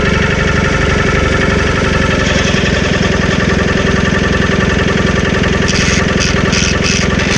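A Massey 821D tractor with a Hanomag two-stroke diesel engine runs close and loud, a steady, rough, knocking drone that holds for the whole stretch with no break.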